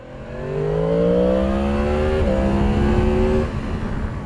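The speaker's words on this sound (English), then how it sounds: "You guys hear when I get into a certain rev range, which the bike is tuned for" A 2023 Yamaha MT-10 SP motorcycle engine revs up steadily, its pitch climbing, then briefly drops and holds before easing off, loud and close with no talking.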